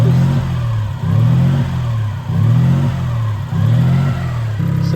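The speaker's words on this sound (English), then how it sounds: "I just manually adjusted this idle, so no more surging" Suzuki Cappuccino engine idling close by after a manual idle adjustment, a steady low mechanical hum that swells and dips in a regular, slow pulsing rhythm.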